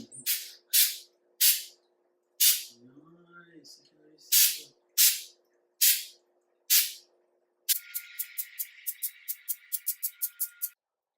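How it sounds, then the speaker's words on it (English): Short hissing bursts of flocking spray from an aerosol can onto a real Christmas tree at home, about a dozen spaced sprays, then a rapid run of quicker puffs, with faint murmuring between them. "we sprayed the whole can of spray, 1 can of spray"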